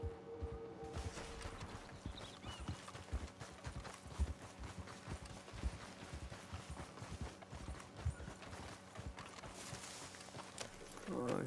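Rhythmic hoofbeats of a horse clip-clop steadily through Red Dead Redemption 2 gameplay, fairly faint, with repeated thuds over a noisy ambient background.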